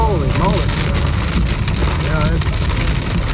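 Heavy rain drums hard and steadily on a vehicle driving the Blue Ridge Parkway in North Carolina through fog, a loud continuous roar of drops close overhead. Faint voices are mixed in.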